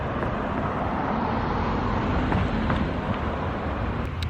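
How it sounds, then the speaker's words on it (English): A car drives by on a road outdoors, a steady broadband roadway rush heard at moderate distance, fairly faint and continuous with no voices over it. "Here's a car coming by."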